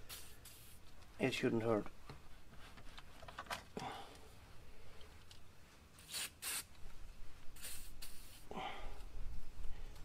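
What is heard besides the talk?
WD-40 spray can spraying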